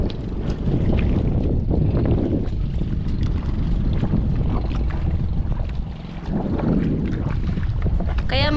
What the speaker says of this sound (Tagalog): Hangin na.